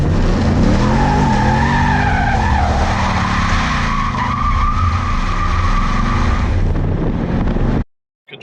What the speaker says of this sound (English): The front wheels still tend to hold you back a little bit and don't really allow you to get a full burnout spin like a normal car would